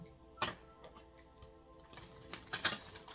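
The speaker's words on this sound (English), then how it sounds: "I feel one more shuffle is needed" Tarot cards being shuffled, a series of soft riffling clicks and taps in irregular bursts, with a louder cluster near the end, close by and fairly quiet, with no talking.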